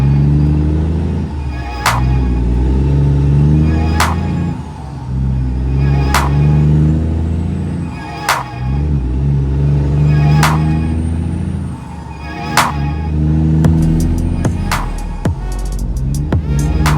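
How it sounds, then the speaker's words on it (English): A loud vehicle exhaust drones and rumbles continuously as it drives away from a tight blind corner at a jade mine, with steady low roar and faint periodic clicks, no talking. "my exhaust was obnoxiously loud"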